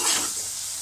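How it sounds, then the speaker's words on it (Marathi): Besan and masala frying on a low flame for misal tarri, a brief soft sizzle with a stir at the start, heard close and alone. "मंद आचेवरच आपल्याला बेसन आणि हा मसाला परतून घ्यायचा आहे"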